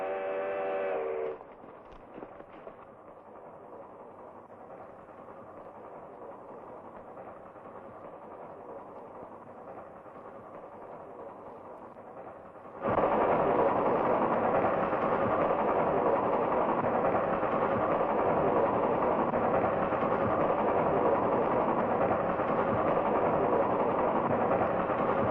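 A steam-era train in a 1955 western comes around a bend, its low rumble at first muted and distant, then abruptly swelling louder and nearer into a sustained heavy churning drone.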